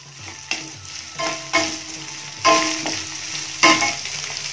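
Chopped green garlic stalks frying in a pan for makki dhokla, a steady close sizzle broken by several sharp bursts of stirring and scraping.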